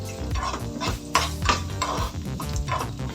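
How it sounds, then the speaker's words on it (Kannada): Onions fry in a pan for a country chicken curry, with a spoon clattering and scraping against the metal in uneven strokes over a low sizzle, close and fairly loud. "ಈರುಳ್ಳಿ ಸ್ವಲ್ಪ ಫ್ರೈ ಆಗಲಿ."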